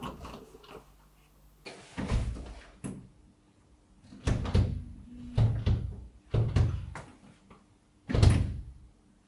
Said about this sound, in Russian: Это ты сейчас дверь заперла?